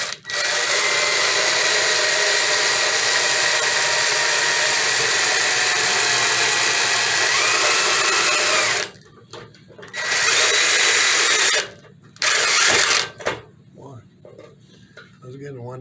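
A power drill bores through the metal of an eight-foot fluorescent light fixture during an LED conversion: a loud, steady grinding whine for about nine seconds, then several short bursts with brief pauses between them.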